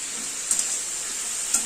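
Vegetables seasoned with salt and turmeric fry in a pan for a prawn curry, a steady close sizzle with a few soft scrapes of stirring, no voices.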